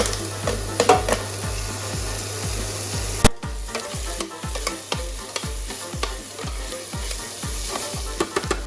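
Onion, garlic and carrot sizzle steadily as they fry in a pan for pumpkin caviar, with a rhythmic series of stirring scrapes and spoon knocks throughout, one sharper clack midway.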